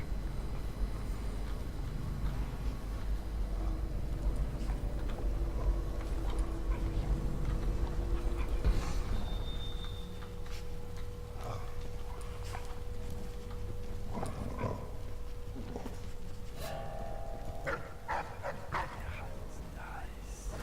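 Dogs in the video game Dishonored, whimpering and barking under a steady low in-game drone, with someone talking over parts of it.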